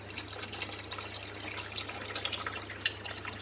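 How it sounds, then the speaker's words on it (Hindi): Water pours steadily into a pot of mutton paye gravy, making a soft, continuous trickling splash over a low background hum. "थोड़ा सा पानी हम और ऐड करेंगे क्योंकि हमें ग्रेवी ज़्यादा चाहिए"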